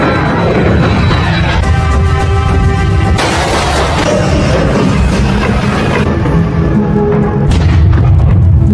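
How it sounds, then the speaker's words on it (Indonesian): Loud, continuous rumbling roar of a volcanic eruption on La Palma in a disaster film, with deep booming blasts and crackling debris, steady and dense throughout with sharper bursts near the middle. "terlihat Fredrik yang sedang bersantai di kolam renang melihat sebuah letusan gunung"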